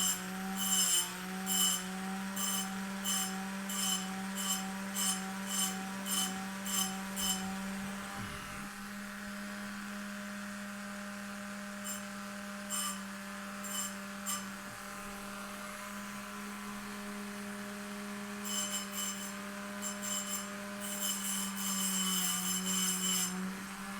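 A power tool grinds a detent ball ramp into a knife, a steady motor drone underneath with bursts of gritty cutting contact that come in rapid pulses, pause midway, then resume, close and moderately loud.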